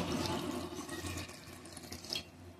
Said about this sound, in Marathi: हे काजू आपल्याला धुवून घ्यायचे